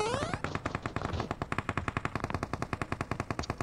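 Rapid automatic gunfire from a battle in PUBG rattles out in a fast, regular string of loud, close shots, with a higher whine sweeping up at the start and continuing bursts to the end.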